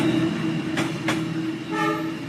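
Cartoon sound effect of a train running at night: a continuous rolling rumble with a couple of clattering bursts, then a short tooting horn near the end.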